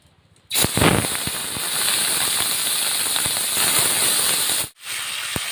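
Prawns hit hot oil with a sudden loud burst of sizzling, then settle into a steady, intense hiss and crackle close by that cuts off near the end and briefly resumes.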